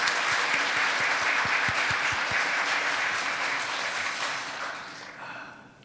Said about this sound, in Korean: 우리 박수로 우리 격려했으면 좋겠습니다